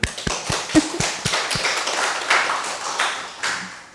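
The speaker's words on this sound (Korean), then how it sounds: "홍진수님이 원경이하고 호수를 위해서 박수를 쳐드리세요" A small group at a Won Buddhist temple service claps for two people, starting with several sharp, rhythmic claps and then turning into a looser, scattered patter of applause.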